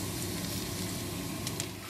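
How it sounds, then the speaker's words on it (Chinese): Chopped garlic fries in oil in a hot iron wok, a dense, even sizzle that stays steady and close for the whole two seconds. "现在往热锅里放油"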